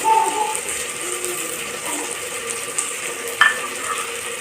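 Ivy gourd frying in hot oil, a steady crackling sizzle with occasional stirring scrapes, close and fairly loud, no voices.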